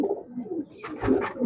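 A Million breed pigeon coos close by, a soft low murmuring call followed by a brighter burst of cooing near the end.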